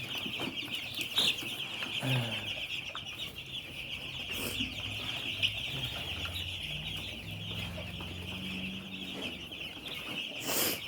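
Broiler chicks in a winter brooding poultry shed with a heated tin give a dense, constant chorus of high peeping, with a few lower clucks and rustles, moderately quiet and without talk.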